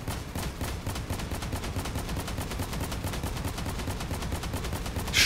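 Rapid, continuous weapon fire from vehicles in the post-apocalyptic car-combat game Crossout, a dense rattling barrage of overlapping shots running steadily throughout without talk.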